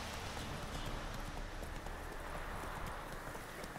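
Horse hooves clop in a steady, even rhythm while riding in The Witcher 3 on Nintendo Switch, fairly quiet and continuous over a soft bed of outdoor ambience.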